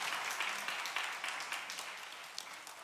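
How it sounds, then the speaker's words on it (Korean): Congregation applauding at a Wednesday church service as people enter, a faint, steady patter of many hands clapping from a distance, slowly fading. "우리 들어갈 때 큰 박수 부탁드리겠습니다"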